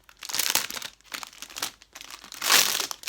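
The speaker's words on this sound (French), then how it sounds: "je déchire ça" Packaging from a Vinted parcel being torn open and crinkled by hand, with several bursts of rustling and crumpling and one louder rip near the end, close and fairly loud with no talk.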